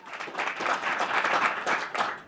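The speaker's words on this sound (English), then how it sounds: "Let's give one more big round of applause to Hue for kicking us off" A round of applause from a startup demo day audience, brisk overlapping claps that swell and hold briefly before fading.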